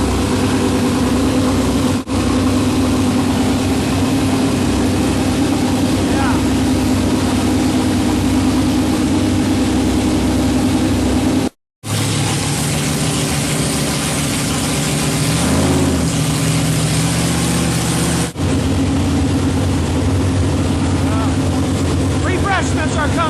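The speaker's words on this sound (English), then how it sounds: "Break in the new camshaft. Got to keep those RPMs up." A 454 big-block Chevy V8 in a '55 Chevy hot rod, sat for 25 years, held at a steady elevated idle of a couple thousand RPM to break in a new camshaft, a loud, continuous, close rumble with a brief cut midway.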